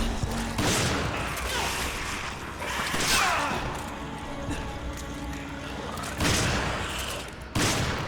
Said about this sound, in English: Maybe I need to grab my shotgun.